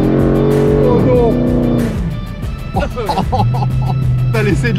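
A loud Dodge Challenger engine of 720 hp revs hard as tires screech and squeal in a sustained smoky burnout, with excited voices shouting over the noise.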